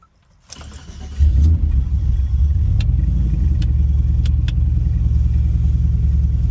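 A turbocharged LS-swapped Chevrolet OBS truck with a Turbo 400 transmission fires up and pulls away, its engine settling into a loud, close, continuous low drone with a few sharp clicks over the top.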